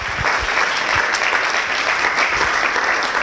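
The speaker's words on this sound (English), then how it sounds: "So if we can get a round of applause and thank you for the time" Loud, dense applause from an audience at the Penn SEAS iTalks event, thanking the speakers: a sustained, even wash of many hands clapping close by, with no speech on top.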